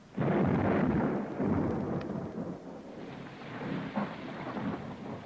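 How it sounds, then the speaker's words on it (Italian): A thunderstorm with rain in a film scene, with heavy rumbling thunder rolling continuously over steady rainfall and swelling again toward the end, loud and close. "Angela, qui piove, com'è il tempo dentro?"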